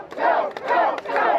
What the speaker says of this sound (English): A crowd of red-clad Trump supporters came out on a foggy day to hear the president after he landed at the Lancaster Airport.